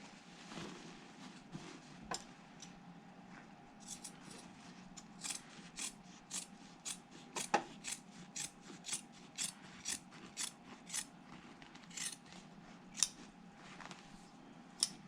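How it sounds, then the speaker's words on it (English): Scissors snip through the fabric lining at the corner of a handbag, giving a steady run of crisp, close blade clicks with short gaps between cuts. "And I'm going to trim across this corner here, making sure not to get any other liner in my scissors."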